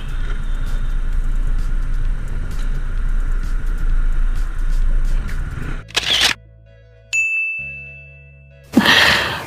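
A Honda Scoopy 130cc scooter heard up close: a loud, steady engine and road rumble that drops out suddenly. A few sharp clatters and a bright ding follow in a quieter stretch, then a loud burst returns at the end.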